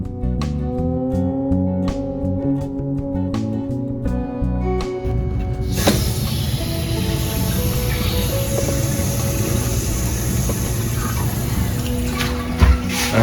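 A newly installed toilet starts refilling through its reconnected water supply hose. After a few sharp clicks and tonal clatter, the water rushes in as a loud, steady hiss that continues to the end.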